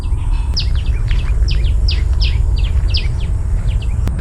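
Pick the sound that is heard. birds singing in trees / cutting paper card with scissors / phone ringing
birds singing in trees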